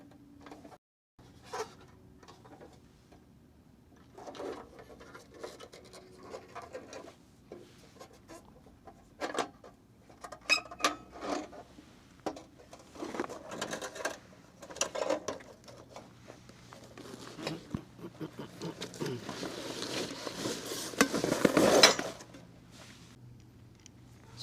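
A fuel regulator is threaded onto a Jetboil burner by hand, giving faint close scraping, ticking and rubbing of metal parts in irregular bursts, growing busier toward the end, with no speech.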